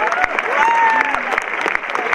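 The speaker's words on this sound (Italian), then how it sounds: "Gli facciamo un altro applauso." Audience applause at a Sardinian folk accordion event in Dorgali, a steady crowd clapping that swells and holds for about two seconds, with faint voices and a brief tone mixed in behind.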